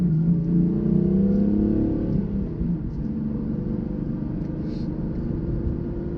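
A 2015 BMW M3 with a manual gearbox accelerates uphill on a road, its engine note climbing loudly, then dropping at a gear change before pulling steadily again.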